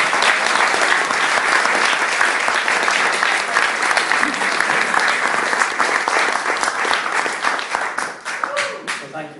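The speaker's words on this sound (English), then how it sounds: "the people that served us our meals deserve a round of applause" Wedding guests break into sustained applause for the people who served their meals, a dense, loud wash of clapping that holds steady before thinning out near the end.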